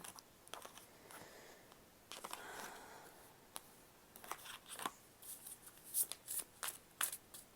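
Cards being shuffled in a series of quick riffling bursts, close and fairly quiet, growing busier toward the end with sharp flicks.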